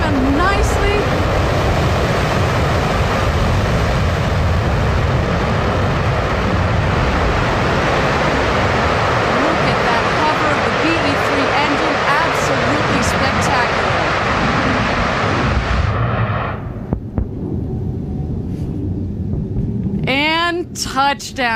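The Blue Origin New Shepard booster's rocket engine roars through its landing burn, a loud, broad, rumbling blast that continues for about sixteen seconds and then cuts out, while a commentator talks excitedly over it and afterward.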